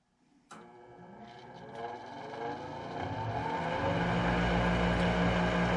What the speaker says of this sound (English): it looks like it's this inducer motor right here that's making the noise